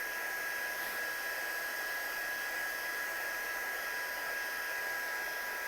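A hair dryer blows steadily to dry freshly applied colour on a handmade card, a close, loud, even rushing whoosh with a faint whine, continuing unbroken without any talking.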